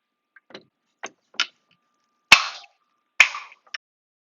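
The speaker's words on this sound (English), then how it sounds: "That's the sound of the mesh being locked in place without the use of any adhesive whatsoever." Lawson mesh panel frame locking its mesh in place without adhesive, heard as a few faint plastic ticks followed by two sharper, louder snapping clicks, sparse and isolated in an otherwise quiet room.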